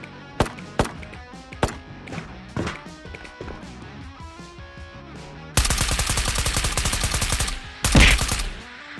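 Gunfire in the video game Escape from Tarkov: scattered single shots early on, then a sustained rapid automatic burst followed by a loud final blast, heard close and loud with no talking.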